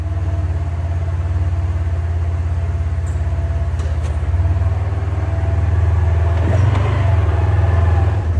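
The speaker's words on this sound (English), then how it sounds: "we'll go for a drive without the skid plate on there just to make sure that everything feels smooth, no issues" A Polaris RZR XP1000 side-by-side, 2024–2026 model with a new prop shaft, running its engine on a test drive, a steady low droning rumble that rises a little partway through, close and continuous.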